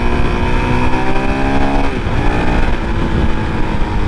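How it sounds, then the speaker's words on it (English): A 2022 Honda CRF450RL dual-sport motorcycle engine hums steadily and blips its revs up and down while riding around town, loud and close with no talk over it. "I like the RPM blipping."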